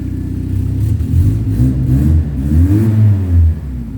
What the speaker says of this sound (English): Obviously the exhaust blow just spoils it a bit, but it sounds fit enough, that's for sure.